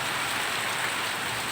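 Heavy rain falls and drips through a leaking roof during a stormy afternoon, a steady dense hiss of drops spattering nearby surfaces without pause, loud and continuous with no voices.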